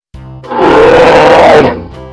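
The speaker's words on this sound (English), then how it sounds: "American black bear." An American black bear lets out a single loud, close, rough roar that swells quickly, holds for about a second and fades.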